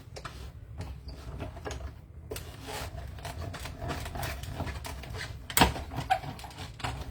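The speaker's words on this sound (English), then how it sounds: "run it through the cut and emboss machine" A paper card being cranked through a cut and emboss machine, steady grinding and rubbing of plates and rollers for several seconds with a sharp snap near the end.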